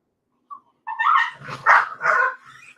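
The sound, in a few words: puppies barking and fussing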